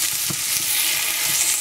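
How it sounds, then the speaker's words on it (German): Slices of stinkhorn egg (witch's egg mushroom) frying in a pan, a constant bright sizzle and crackle close by with a few soft stirring knocks underneath. "Und jetzt braten wir die schön von beiden Seiten"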